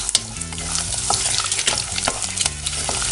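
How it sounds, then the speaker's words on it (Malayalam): Coconut pieces fry in hot coconut oil for a Kerala-style beef curry, with a steady, dense sizzle and the scrape of a stirring spoon running through it, close and fairly loud, with no voices. "തേങ്ങാക്കൊത്ത് വറുത്ത് മാറ്റി വെക്കുവാണ്"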